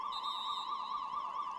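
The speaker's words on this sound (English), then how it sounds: "That's a siren." An emergency siren on the sideline of an American football game wails with a steady, rapidly warbling tone, fairly loud and continuous throughout without talk.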